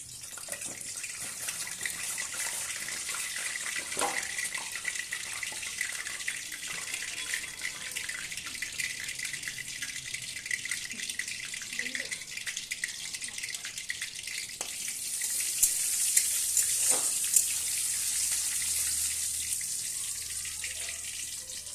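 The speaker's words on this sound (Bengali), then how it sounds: "এখানে আমি জিরা শুকনো লঙ্কা তেলে দিয়ে দিলাম।" Cumin seeds and dried red chillies sizzle in hot mustard oil in a kadai, giving a steady, soft hiss that rises a little near the end, with no talking.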